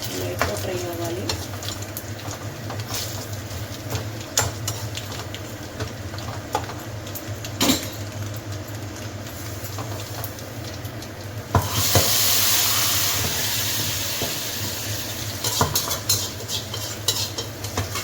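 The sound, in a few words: fish frying lightly in a pan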